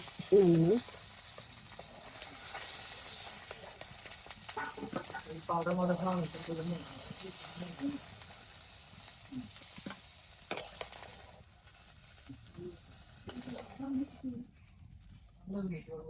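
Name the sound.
fish frying in oil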